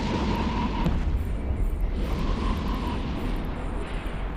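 Destroyer weapons firing in the space game EVE Online make a continuous rumbling barrage of booms and bursts, loud and dense throughout, with faint tonal game cues layered above and no voice.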